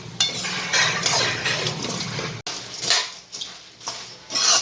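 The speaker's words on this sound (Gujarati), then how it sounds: "હવે આ બધું આપણે પહેલાં મિક્સ કરી લઈશું" Ragi and bajra puffed millet chevda being stirred and tossed in a pan, giving steady scraping and rustling with light clinks of a spoon against metal, fairly close and continuous with a brief pause midway.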